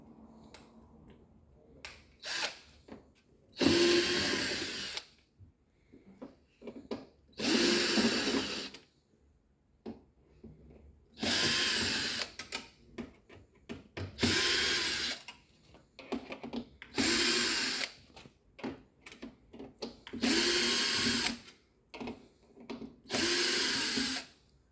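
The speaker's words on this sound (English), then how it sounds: "We have to remove all the screws." A power screwdriver removes screws from an LG dishwasher control board in repeated whirring bursts of a few seconds each, separated by quiet pauses and small handling clicks, loud and close.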